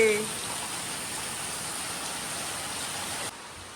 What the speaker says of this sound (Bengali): এই দেখুন এরকম ঝমঝম করে মুসলধারে যে বৃষ্টিটা হয়